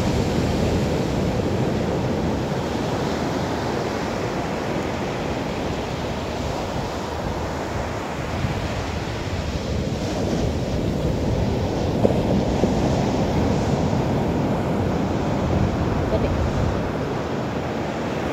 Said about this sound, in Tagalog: Grabe ang hampas sa dagat